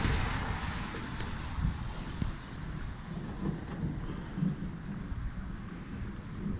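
Steady rain falls during a thunderstorm, with low rolling thunder rumbling underneath and swelling at times, heard from a sheltered spot beside a truck.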